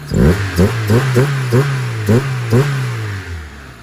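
A converted car engine revs in a string of sharp throttle blips over a steady idle, each rising burst loud and close, then settling back down, with no talk over it.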